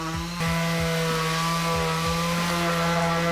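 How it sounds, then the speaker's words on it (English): A power sander whines steadily at close range with a constant motor drone, punctuated by several short scraping bursts as it works against reclaimed wood. "the quick sanding is finished"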